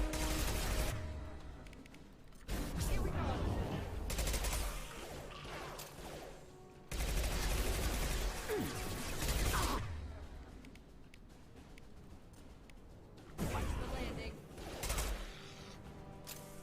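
Bursts of gunfire from Mass Effect 2 come in several loud clusters of rapid shots with crashes and impacts, broken by quieter gaps.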